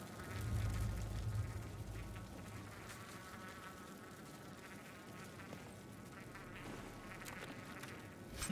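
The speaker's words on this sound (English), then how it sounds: "I can hear flies. That's just gross." Faint, close buzzing of flies in the fantasy role-playing game Dragon Age: Inquisition, a thin whining drone that wavers over a quiet, murky game ambience.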